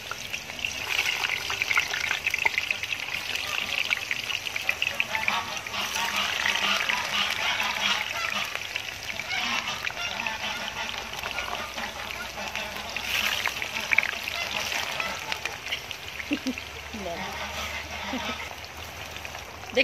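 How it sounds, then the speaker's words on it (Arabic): Eggplant frying in a pan of oil after potatoes, a steady crackling sizzle like light rain, with a person talking over it throughout. "البرنجانه خلاص هنسيبها بقى برده ايه تحمر مع بعضها كده"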